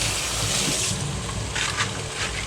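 Steady broadband rush of tap water running over bok choy being rinsed in a kitchen, continuous and fairly close, with no talk.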